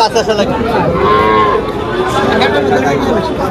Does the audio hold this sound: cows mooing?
yes